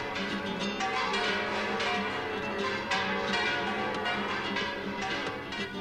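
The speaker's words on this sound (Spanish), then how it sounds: "con el sonido de sus campanadas." Church bells ringing in Seville, a dense, continuous peal of overlapping strikes and sustained ringing tones, moderately distant and steady throughout with no voices.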